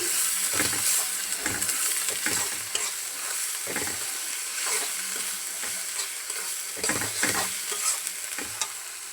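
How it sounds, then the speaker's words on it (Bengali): Spices and chicken masala are stir-fried in a pan, giving a steady hissing sizzle with repeated scraping strokes of a spatula stirring close by. "এখন আমি মশলাগুলি কষাই নিব।"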